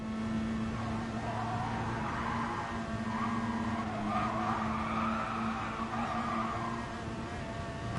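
Race cars roar at high speed in Gran Turismo Sport, a steady loud engine drone with tire squeal and skidding rising and falling over eight seconds.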